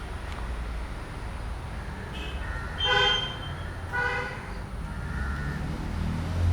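Steady road traffic rumbles in the background, broken by two short car horn honks a second apart, moderately near, with no talking.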